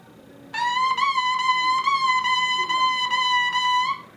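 Oboe holding a smooth, connected legato line at a steady pitch for about three and a half seconds, close and clean, with only slight swells between notes and no voice.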